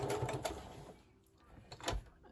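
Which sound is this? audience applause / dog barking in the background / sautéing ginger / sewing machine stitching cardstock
sewing machine stitching cardstock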